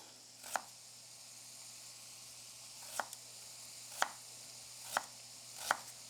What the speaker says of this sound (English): I'm gonna cut up just a little bit and chop it, and this is gonna go in our sauce.